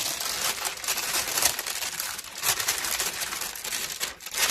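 Sheets of coffee-dyed tracing paper are handled close up, crinkling and rustling in continuous bursts with brighter crackles as they are flexed and shifted, with no voices.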